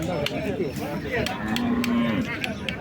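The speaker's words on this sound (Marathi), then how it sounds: "दोन एक गाई आणि एक वासर सोडलेला आहे" A cow moos in a long, low call amid a busy outdoor crowd murmur at the Modnimb cattle market, with other animal and clatter noises around it.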